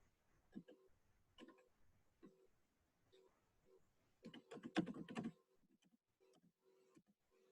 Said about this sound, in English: trying to type this in